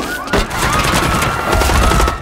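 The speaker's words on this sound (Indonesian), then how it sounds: "tiba-tiba pria yang ada di mobil tersebut memberondong James dengan tembakan" A short, dense burst of automatic gunfire from a movie scene, with a man in a car spraying shots, loud and continuous for about two seconds with sharp crackling impacts.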